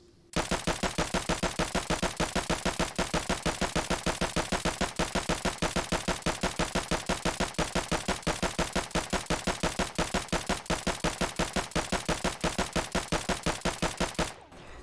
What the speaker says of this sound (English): I'm going to try to attempt to shoot the target within the center of mass.